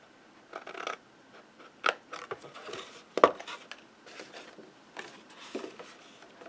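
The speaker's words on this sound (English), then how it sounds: "Then I'm going to cut this little square out." Scissors cutting a small square out of a craft Santa box: a few quiet, close snips and crisp cuts in uneven bursts, separated by near silence, with no talking.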